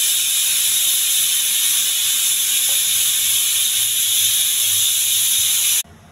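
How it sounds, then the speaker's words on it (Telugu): A pressure cooker boiling soaked peas lets out a continuous, loud, steady hissing whistle that runs unbroken for several seconds before cutting off abruptly. "ఈ వాటర్తో ఉడికి 4-5 విజిల్స్ పెడితే సరిపోతుందండి"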